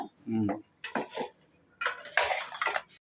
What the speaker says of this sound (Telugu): ఏంటి గిన్నెలు కడుగుతున్నావా?